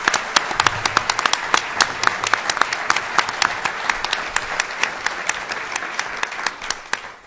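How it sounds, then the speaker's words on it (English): An audience at a governor's project announcement for the Hamister Group gives a round of applause for a businessman, with dense, steady clapping close by that keeps up evenly for several seconds. "So let's give him a round of applause, Mr. Mark Hamister."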